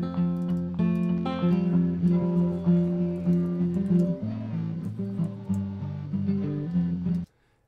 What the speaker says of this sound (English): So this is only the guitar.